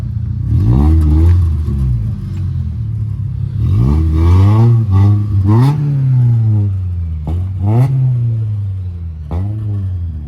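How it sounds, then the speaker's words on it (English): Silver Toyota Celica with max-power style tail lights rolling out of a Japanese car meet in Reading, its engine revving repeatedly in loud, close bursts that rise and fall. "the silver Celica is rolling out"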